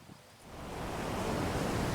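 Ocean waves breaking on a beach, surf noise swelling up from quiet into a broad, steady wash that grows louder and fills the scene.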